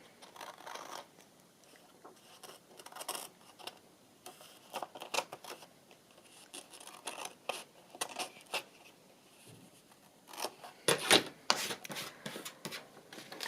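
Scissors snip and rub along the edges of a paper envelope, a quiet, close series of irregular cuts and rustles with short pauses between them.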